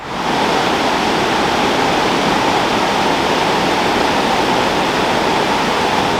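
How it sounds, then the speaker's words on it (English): Water pours steadily over the weir on the River Tavy beside a bridge in Tavistock, Devon, giving a loud, constant rushing roar with no talk over it. "So this behind me is the River Tavy, and here is the weir"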